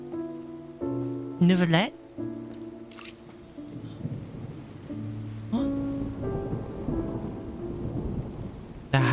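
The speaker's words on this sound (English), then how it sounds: "It's raining!" Rain patters steadily in the Genshin Impact world while low thunder rumbles underneath, mixed with game music tones and a brief spoken voice.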